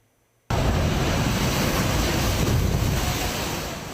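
Sea waves along a coastal promenade with a typhoon barrier crash in abruptly and roar continuously, loud and close, mixed with wind buffeting the microphone.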